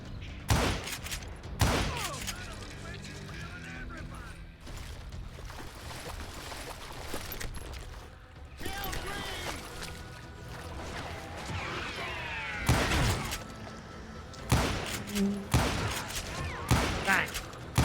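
Gunfire in the western shooter game Call of Juarez Gunslinger: several loud, sharp shot bursts spread across the stretch, some clustered in quick volleys, over continuous game ambience with a voice talking in places.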